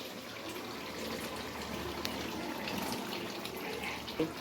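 Water pours steadily into a cooking pot for a chicken-feet, skin and chana dal curry with potatoes, a continuous close gushing splash with no talk.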